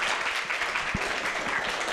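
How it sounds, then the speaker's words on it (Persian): An audience applauds a participant on a televised mental health programme, sustained, even clapping from a group with a couple of louder thumps mixed in and no talking over it. "خب یک تشویق دیگه هم بکنیم دوست خوب."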